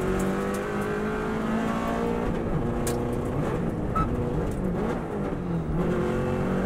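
Subaru race car running flat out at full throttle, engine note rising and shifting through gears with a loud, continuous close-up roar and steady harmonic bands throughout.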